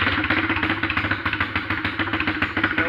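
A pit bike with no muffler revs hard and close, its raw open exhaust pulsing in rapid, rough bursts of throttle and sounding loud and crackly without any voices.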